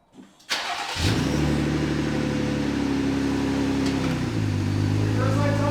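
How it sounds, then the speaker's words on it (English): A Jeep JL Wrangler engine cranks briefly and catches, then settles into a steady close idle with a slight rise in pitch near the end, and a voice speaks faintly underneath. "I'm going to start up the engine."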